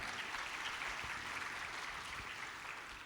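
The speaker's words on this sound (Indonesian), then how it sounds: "Tepuk tangan untuk kita semua." Audience applause at a school graduation ceremony, SMPIT Al Ibrah's 2022 wisuda, a soft, distant and steady wash of clapping with no pauses.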